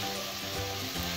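Garlic sizzles in a frying pan alongside a special chili pepper, a steady close hiss of frying that holds evenly for about a second with no talk.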